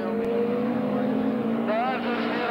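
Race cars drive at the Simararing track in Debrecen, their engines holding a steady, droning roar with a brief rising whine near the end, under a commentator's voice.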